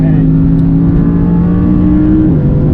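Audi R8 engine driven flat out on a race track, a loud sustained roar that holds steady before the pitch drops near the end as it shifts or lifts.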